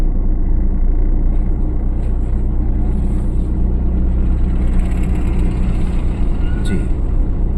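Car engine at low idle pulling away slowly on the clutch during a driving lesson, a steady low rumble throughout with someone talking over it.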